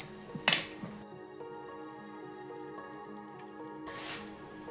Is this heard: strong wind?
no